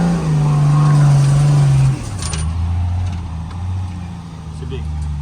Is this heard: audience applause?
no